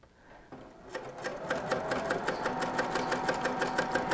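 Sewing machine chain piecing quilt units, running as a steady, close stitching whir that starts softly and settles into an even rapid rhythm with faint clicks, no voices.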